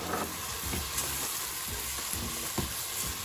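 Tomatoes sizzle and fry steadily in a pan for vegetarian keema pav, a constant close crackle with occasional stirring scrapes and no voices.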